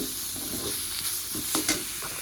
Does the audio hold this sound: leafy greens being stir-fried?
yes